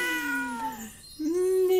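A cat in The Sims 4 video game gives two clear, drawn-out meows, the second rising and louder, heard alone and close.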